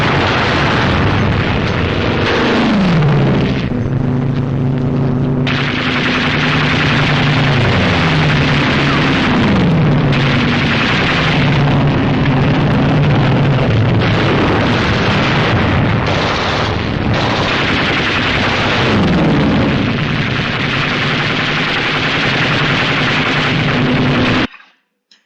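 Archival wartime recording of the Japanese attack on Pearl Harbor in December 1941, a loud continuous roar of explosions and booms with bursts of gunfire and a wavering siren-like tone throughout.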